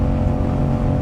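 Steady, close engine drone from a motorcycle being ridden, a continuous low rumble with slight swells in revs and no break across the short stretch.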